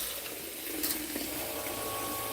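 Tap water runs steadily into a sink for soaking and washing produce, a close, continuous splashing rush with a brief brighter splash midway.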